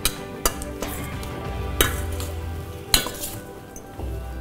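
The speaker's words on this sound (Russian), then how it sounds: "Аккуратно смешиваем салат." A salad of pesto and smoked chicken mixed gently in a bowl, from a Crimean gourmet kitchen: soft steady stirring and scraping with several sharp clinks of utensils against the dish, no voices.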